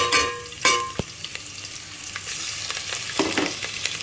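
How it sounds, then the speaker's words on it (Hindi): Ginger garlic paste fries in leftover onion oil with a steady crackling sizzle, broken by a few sharp clicks and scrapes of stirring, fairly close and with no voices. "और इसको अच्छी तरह फ्राई करेंगे"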